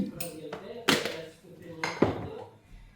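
Used dishes and pots being washed, with two sharp metallic clanks standing out among lighter clinks and scraping, close and fairly quiet.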